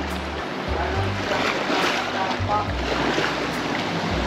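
Strong surf roars steadily at Aninuan Beach in Puerto Galera, broad continuous wave noise with a low rumble and no clear pauses.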